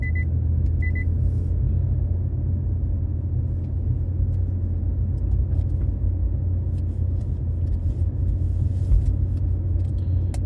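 A car driving through Montréal, heard from inside as a steady, loud low road rumble and engine hum throughout, with a couple of short beeps at the start and faint ticks later.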